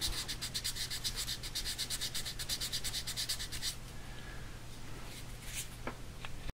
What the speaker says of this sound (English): I'm just using this sanding dry, but you can use it wet as well